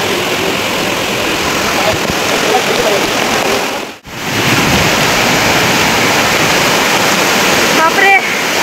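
Monsoon waterfalls on the Visapur Fort trek roar as a loud, dense, unbroken rush of falling water close by, with one brief dip midway and a faint voice near the end.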